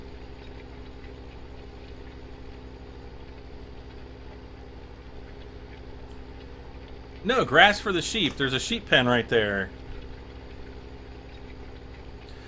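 A tractor engine in Farming Simulator 17 drones at a steady low idle throughout, while someone speaks briefly over it.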